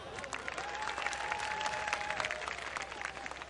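An audience at a comedy and mimicry show claps steadily, a dense, even patter of many hands with a faint tone running through it.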